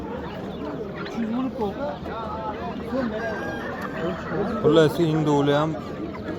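Chickens and roosters at an outdoor poultry market in Namangan, with clucking and a loud crow rising briefly over nearby people talking in the foreground.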